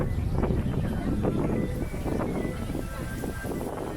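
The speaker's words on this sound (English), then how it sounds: "So windy." Strong wind buffets the microphone in a continuous low roar for the whole stretch, steady and close, outdoors at a festival in EPCOT.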